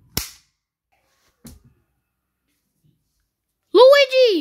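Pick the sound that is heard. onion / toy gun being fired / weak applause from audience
toy gun being fired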